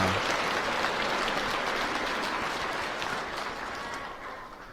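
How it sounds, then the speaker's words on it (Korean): A church congregation at a Christmas Eve night Mass applauds together, a dense, steady wash of clapping that holds evenly and then tapers off slightly toward the end. "우리 모두 이 미사에 참여한 우리 모두 위해서 박수 부탁드립니다"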